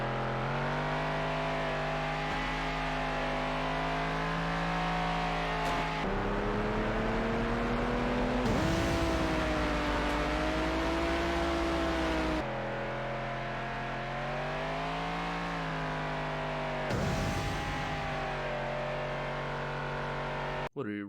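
Car engines in the Hot Wheels World Race video game hum and whir steadily with rising and falling pitch as the cars accelerate, shifting through several continuous stretches, fairly quiet and unbroken for about twenty seconds.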